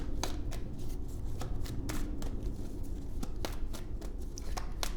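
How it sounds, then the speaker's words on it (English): A deck of oracle cards is riffled and shuffled by hand at close range, giving a steady run of crisp, sharp card snaps and flutters with no talking. "Just felt the need to shuffle these for whatever reason."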